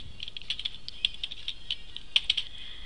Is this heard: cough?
no